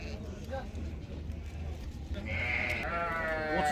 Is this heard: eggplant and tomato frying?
no